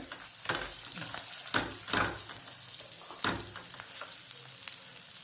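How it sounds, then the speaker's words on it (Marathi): A leftover chapati pizza base fries in a pan with a steady close sizzle and hiss, while spatula scrapes and stirring knocks land at uneven intervals. "हिला चांगली अशी कडक होईपर्यंत शिकून घ्यायची"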